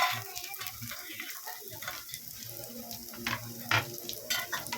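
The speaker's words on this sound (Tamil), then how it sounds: "இதை நல்லா மிக்ஸ் பண்ணிக்கோங்க." Leftover idli mixture stirred in a pan with a spoon, producing soft scraping and light sizzling in irregular strokes, close and fairly quiet, with no talking.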